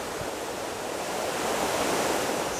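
Massive waterfall on Steel Creek, viewed from the top looking down into a gorge along a mountain trail: a steady, loud, broadband roar of falling water that swells slightly midway, with no voices.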